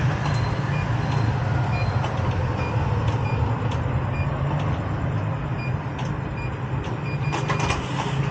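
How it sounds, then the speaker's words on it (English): Aboard a train in Vietnam, a warning beep sounds as a series of short, evenly spaced electronic tones over the steady rumble of the moving carriage. "You gotta hear a beep"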